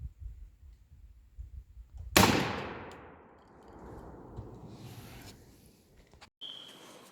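A shotgun fires a turkey load, 5 shot or 6 shot, in one sharp loud outdoor blast that rings out and decays over several seconds, with faint clatter after it and no talk.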